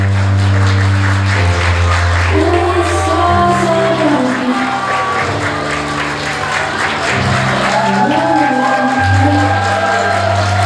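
Wedding guests applaud as the bride and groom enter a convention-hall ceremony, a steady wash of clapping that runs the whole time beneath loud music.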